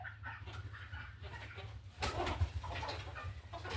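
A hen gives soft, low clucks over a steady background hum in a 9°F chicken coop, with a brief louder rustle partway through.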